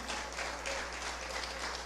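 A congregation applauds during a communion church service: an even, continuous wash of many hands clapping at moderate distance over a low steady hum, with no talk on top.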